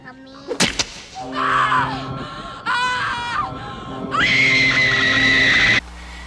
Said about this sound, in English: It's very effective having these screams over the shot of the bus coming towards Gage